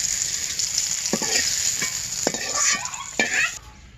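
Vegetables fry in hot oil in a pan with a close, constant bright sizzle, broken by several clinks and scrapes of a metal spatula stirring against the pan before the sizzle drops away at the end.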